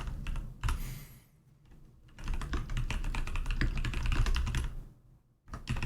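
Fast typing on a computer keyboard, dense clicking keystrokes in bursts with brief pauses, close and moderately loud.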